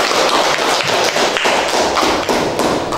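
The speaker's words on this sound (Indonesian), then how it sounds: "Tepuk tangan dulu untuk." A class gives a round of applause, producing loud, dense clapping with thumping, tapping hits that stay close and unbroken for a few seconds.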